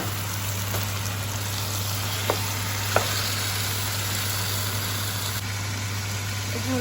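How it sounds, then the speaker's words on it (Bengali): Meat frying with browned onions in a pan gives a steady, close sizzle over a constant low hum, with a couple of faint clicks from stirring. "এখন আমি মিটটা দিয়ে দেবো পেঁয়াজের মধ্যে।"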